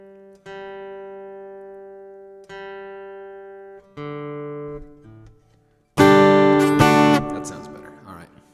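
A stringed instrument is tuned at an open mic. Single notes are plucked and left to ring three times, then a louder strummed open chord rings out near the end.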